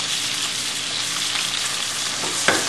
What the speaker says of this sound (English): Put it in the frying pan and sear it